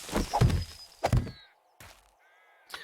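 Metal clanks from hitting iron in the 7 Days to Die survival game, a few sharp strikes with ringing decay, loud and close, spaced irregularly with brief pauses between them.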